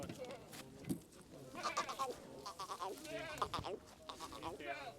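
Goats bleat repeatedly at a busy goat market, the calls rising close by while people talk over them throughout.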